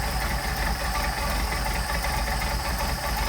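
A Mercedes 190SL engine with Solex carburetors idles steadily and evenly, a continuous mid-pitched hum with a slight rhythmic pulse and no talking.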